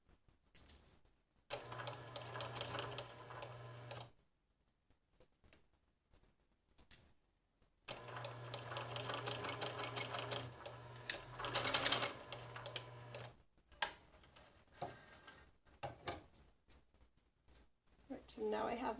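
A sewing machine stitches pleats into a fabric face mask in two runs of steady, rapid mechanical chatter, separated by quiet pauses, followed by softer handling sounds.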